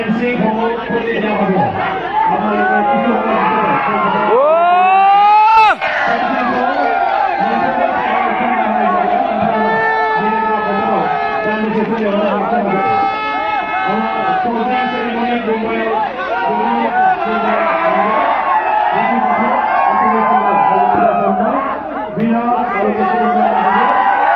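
A crowd at a celebrity football match cheers and shouts, dense roaring voices and whoops rising and falling continuously with a few sharper yells standing out.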